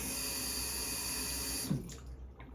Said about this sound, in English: Look at this faucet.